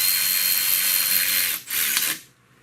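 A power tool drives a screw into a plastic panel on a 2014 Chevy Cruze, giving a steady, close, bright whir for about a second and a half, then a brief gap, a second short burst, and silence.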